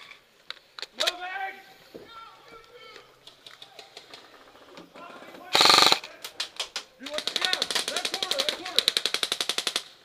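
Bursts of automatic gunfire in a tactical skirmish event, rapid rhythmic clusters of loud cracks with a dense sustained volley near the end, interleaved with shouting and talk.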